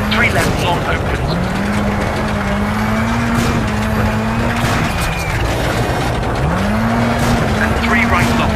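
Engine of a WRC rally car in the PS2 game WRC Rally Evolved, a steady loud drone rising through the gears with clear upshift sweeps, tyre and gravel noise underneath and a co-driver's voice reading pace notes.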